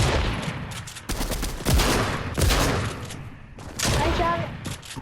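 Rapid bursts of video game gunfire crackle in quick volleys during a shootout, loud and close, with brief gaps between clusters of shots and some talk mixed in.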